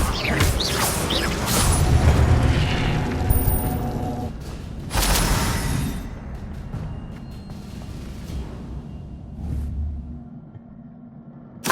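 Incendio fire spell cast in Hogwarts Legacy, a rushing, roaring burst of flame with crackling mechanical rumble, loud at first, then a second whooshing flare before tapering into quieter ambience.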